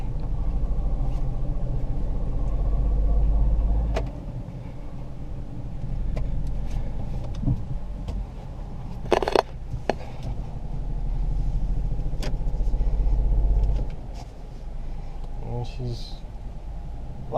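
A 2018 Ford Focus engine with water in a cylinder idles in drive without moving, a low uneven rumbling that swells and dips, with a few clanks and voices talking over it.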